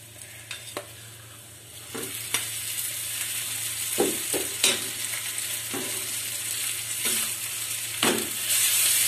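Broken wheat dalia stirred and roasted in a pan with already-fried spices, giving a steady sizzle broken by repeated scraping strokes of a spoon, close and fairly loud throughout.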